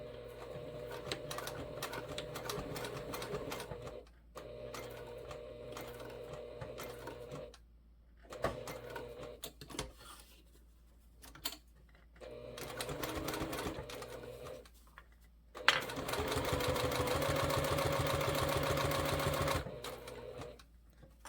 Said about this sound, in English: Put my clips back on there and continue sewing.